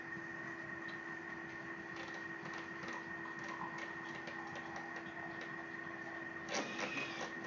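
A Thermomix food processor mixing, giving a steady mechanical whir with light ticking and a brief louder surge near the end, close and moderately quiet.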